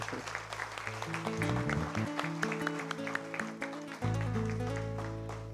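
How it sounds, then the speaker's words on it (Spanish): Church congregation clapping loudly during a Sunday service, a bright patter of hands over sustained music with held tones that shift partway through. "denle un aplauso fuerte"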